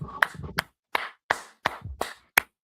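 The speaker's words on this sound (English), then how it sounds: "got to give a round of applause" A short round of clapping with about seven sharp, separate claps in an uneven rhythm, close and fairly loud, with no talking.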